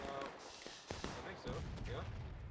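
Musket volleys crackle in the Civil War game War of Rights: a few sharp, fairly distant pops in quick succession over a busy, noisy background, with faint voices mixed in.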